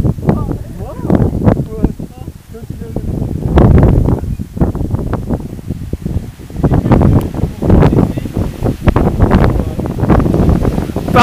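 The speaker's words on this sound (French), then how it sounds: "Par contre, il y a un peu de vent, hein, comme vous le voyez !" Strong wind gusting across a cliff top on the Coromandel coast, buffeting the microphone in loud rumbling waves while people talk over it.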